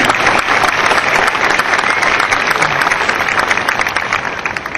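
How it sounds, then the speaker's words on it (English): Sustained applause from a large crowd, steady dense clapping that holds throughout and tapers slightly at the end. "let's give them all another round of applause"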